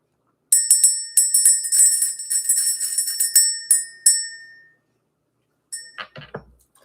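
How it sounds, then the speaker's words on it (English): A small bell rung to clear energy gives a run of bright, rapid metallic rings for about four seconds, then stops, and a short clattering jingle follows after a pause. "We're going to ring the bell."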